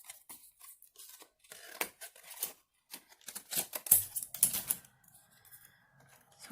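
Scissors snipping paper for an art journal page, a series of close, short crisp cuts in irregular bursts, with brief quiet gaps between them.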